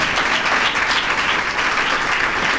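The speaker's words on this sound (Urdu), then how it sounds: "تو خداوند کے لیے زوردار تالیاں۔" Sustained applause from a church congregation during a sermon, a dense, even wash of many hands clapping at once, loud and continuous with no speech on top.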